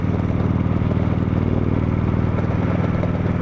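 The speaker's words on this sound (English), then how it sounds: "This bike going 65, 70 miles an hour is not pulling too many RPMs at all" A Kawasaki Vulcan Vaquero motorcycle cruises on the highway at 65 to 70 mph, turning about 2,400 rpm. Its low engine drone stays steady and loud throughout, mixed with constant wind rush.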